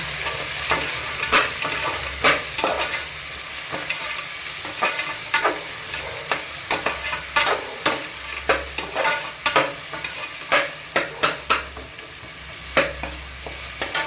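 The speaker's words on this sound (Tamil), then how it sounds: "எல்லாம் போட்டு நல்லா வணக்கி விட்டுக்கோங்க" Vegetables sizzle and fry in a pan while a utensil stirs and scrapes repeatedly, with clattering strikes scattered throughout.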